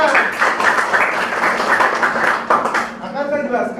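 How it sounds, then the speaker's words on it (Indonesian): A classroom of high school students claps together during an art lesson on typography, a dense, steady burst of applause that lasts a few seconds and then thins out as a voice starts speaking. "Tepuk tangan."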